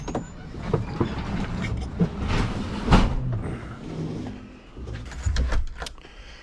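A Honda Talon 1000R side-by-side runs along with a steady mechanical engine drone and rattling chassis noise, swelling and easing slightly over a few seconds.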